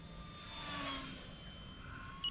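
A small E-flite UMX P-51D Mustang RC airplane flies overhead, its faint electric motor whine swelling as it passes and then fading into the distance.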